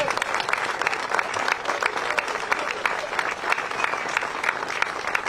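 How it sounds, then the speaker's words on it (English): A crowd in Rhode Island applauds the Boston Celtics with a big, continuous round of clapping, dense and steady throughout, with faint cheering mixed in. "let's give them a big round of applause"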